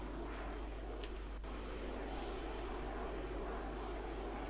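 Steady aircraft engine drone from a plane in the Arma 3 combat game, a constant broadband roar with a brief faint click partway through and no talking.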